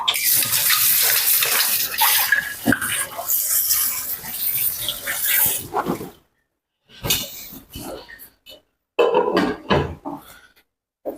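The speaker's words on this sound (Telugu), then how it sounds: "దీని మూత కడిగి" A pot lid is washed under running tap water in a kitchen: a loud, close gush of water with clattering handling, then breaks of silence and short bursts of running water.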